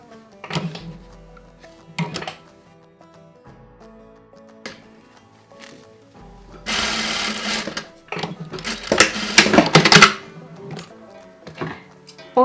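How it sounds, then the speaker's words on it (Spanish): A sewing machine stitches wedding veil fabric in short intermittent runs, with a few brief whirs early on and two longer, louder bursts of stitching near the middle and end, alone with only small handling clicks between. "vamos a coser nuevamente por aquí."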